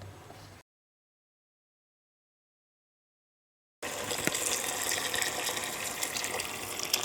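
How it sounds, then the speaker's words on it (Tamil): Boiled water is poured into a pot of rice for a Bangalore-style mushroom donne biryani, heard as a steady, fairly loud gush of running water. It comes in after a short cut of silence and runs without talk to the end. "இப்போ நான் காய வச்சுருக்கிற தண்ணி ஆட் பண்ணியிருக்கிறேன்"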